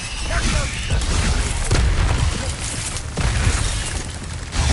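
Explosive Confringo spell blasts in the Hogwarts Legacy video game, heavy booming impacts and rumbling bursts in quick succession, loud and close amid combat noise, with a voice talking over them.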